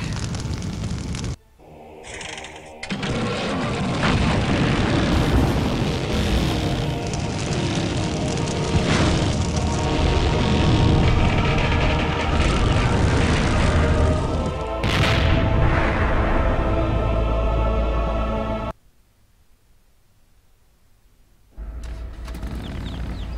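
An airplane in the video game Full Throttle Remastered gives a loud, sustained engine roar with booming surges. It runs for most of the stretch, breaks off into near silence, then picks up again briefly at the end.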